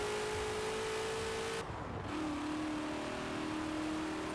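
A front-engine rear-wheel-drive car drifting in Forza Horizon 4, its engine holding a steady droning note that briefly dips and then climbs again, running continuously with no talk.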